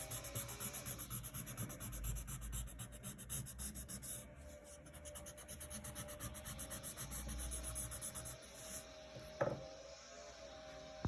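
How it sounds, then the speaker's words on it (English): Blending stick rubbing over a pencil drawing on paper, steady close scratchy strokes in a fast back-and-forth rhythm for about nine seconds, ending with a few light taps. "Now we're gonna find the blending stick and blend it out."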